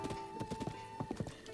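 Horse hooves clip-clop in a quick, even rhythm in Zelda: Breath of the Wild, close and fairly quiet, with no voices over them.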